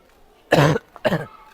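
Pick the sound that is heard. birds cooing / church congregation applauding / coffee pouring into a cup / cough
cough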